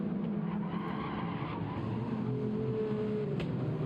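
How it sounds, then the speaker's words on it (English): Race cars in the Gran Turismo 7 video game, with engines roaring steadily and a rising tire squeal through a turn late in the run, close and loud. "Squealing the tires."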